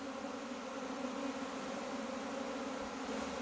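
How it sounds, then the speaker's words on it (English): A dense, steady buzzing of a honeybee swarm hums continuously, quite close, with no voices over it. "these bees are gonna send out scouts"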